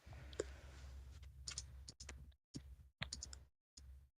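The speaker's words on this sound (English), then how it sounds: "Somebody's clicking like crazy." Rapid clicking from someone playing League of Legends, picked up faintly over a Discord voice chat: quick bursts of small mouse and key clicks in uneven clusters, cut by gaps of silence.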